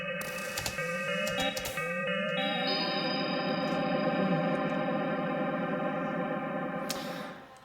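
Sustained synth notes wash through shifting, heavily processed reverb and echo, tones stacking and smearing into a shimmering tail before cutting off.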